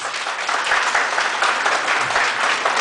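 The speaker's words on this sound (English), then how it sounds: "May we give them a round of applause." Audience applause at a NAMCYA Northern Luzon cluster music competition, a dense, even round of clapping filling the whole moment.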